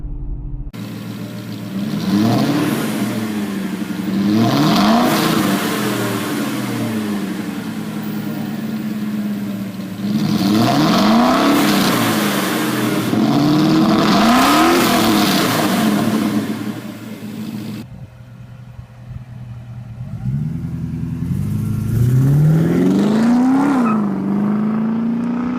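A Porsche 928 V8 revs repeatedly in a garage, rising and falling through several long throttle sweeps, loud and close, with a brief drop toward idle before one last rev.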